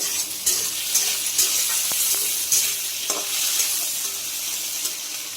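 Torn bay leaves sizzle steadily in hot oil for a vegetable dish, a continuous bright frying hiss with a few soft stirring knocks, close and fairly loud, no voices.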